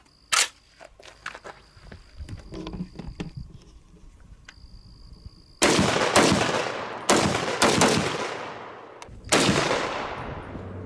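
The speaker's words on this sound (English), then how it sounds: "we had a lot of fun shooting this rifle" Gunshots from a C308 battle rifle fired on a range: several loud, sharp reports in the second half, each followed by a decaying tail, after quieter clicks and handling noises.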